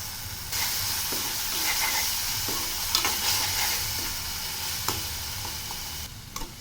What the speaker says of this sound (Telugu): ఉడబెట్టుకు ఉంచుకున్న చింతపండుని కూడా ఒకసారి నూనెలా వేసుకున్నామండి అలాగే ఉప్పు కూడా వేసుకుందాం